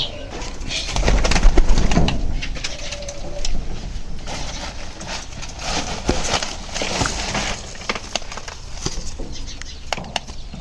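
A pair of pigeons kept in a village loft, where they have laid eggs, coo and stir nearby, with their soft calls and rustling running steadily through a busy, close-up background.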